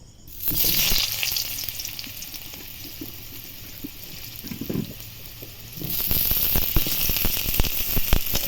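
Cut potatoes frying in oil in a wok give a close, loud, crackling sizzle that swells when they go in and stays busy throughout, with bursts of spattering toward the end.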